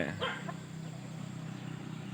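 A seven-month-old young chicken perched on a roof gives a short clucking call near the start, then only a steady low background hum remains.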